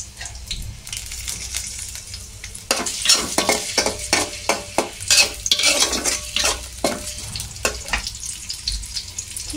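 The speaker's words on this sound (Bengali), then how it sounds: "এটা হচ্ছে হালকা লাল লাল করে ভেজে নেব।" Food fries in a pan with a steady background sizzle, broken by a run of sharp scraping stirring strokes that come close together and sound close by.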